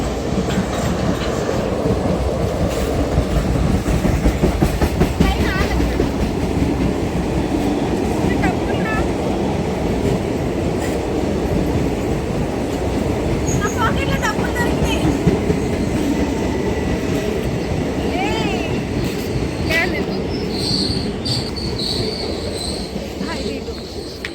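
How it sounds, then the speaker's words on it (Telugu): A train pulls into a railway station without seeming to slow much, its wagons rumbling steadily and loudly with wheel squeal and faint clatter across the whole stretch, with no talk. "వస్తుంది, అసలు ఆగదేమో ట్రైన్ ఇది."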